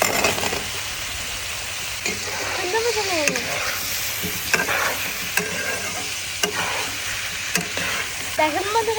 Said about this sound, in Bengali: এবার আমি আপেলটা দিয়ে দিচ্ছি